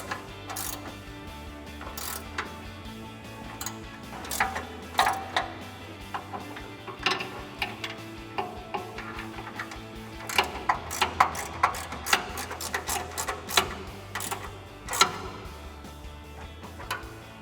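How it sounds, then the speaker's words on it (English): A 15mm ratcheting wrench tightens bolts under a truck's front bumper, its pawl clicking in quick, irregular runs of sharp ticks, close and clear, with no talking. "take a 15mm ratcheting wrench to tighten down your bolts"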